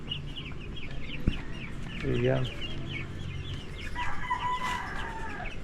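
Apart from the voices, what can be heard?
chickens clucking and crowing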